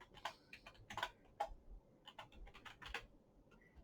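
Quiet, close clicking of keys on a computer keyboard, typed in short irregular bursts over a low background hum, with no talking.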